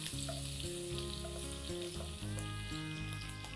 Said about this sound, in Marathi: हा लसूण आपण छान असा फ्राय करून घ्यायचं आहे.